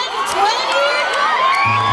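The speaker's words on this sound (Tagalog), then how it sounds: "Mahina yung hiyaw-hiyaw mo dyan!" Crowd at a live hip hop concert at Dubai Expo 2020 cheering and shouting loudly, a continuous dense roar of many voices with whoops rising over it.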